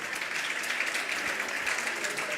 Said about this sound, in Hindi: बच्चे भी ताली बजा रहे थे